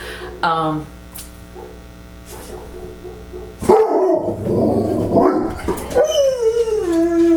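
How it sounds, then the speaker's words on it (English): A dog barks and whines nearby, a few sharp yelps followed by a longer whimpering cry over a steady electrical hum. "a dog just barked"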